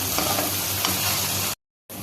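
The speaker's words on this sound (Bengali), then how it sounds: "আমি কিছু রসুন পেঁয়াজ আর কাঁচামরিচ গরম তেলে দিই" Steady crackling sizzle of garlic, onion and green chili frying in hot oil, close and continuous, then a sudden cut to silence before the sizzle briefly returns.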